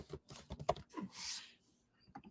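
Someone typing on a computer keyboard, a short close burst of uneven key clicks and taps, with one louder clack and a brief swish in the middle, heard alone.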